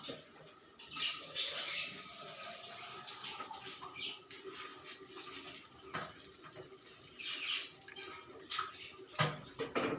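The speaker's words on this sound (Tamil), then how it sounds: "அதுக்கு கொஞ்சம் தண்ணி ஊற்றலாம்" Water splashes onto potted plants, a sugar plant and a Brahma Kamal, in uneven close gushes and trickles, with a voice speaking in places.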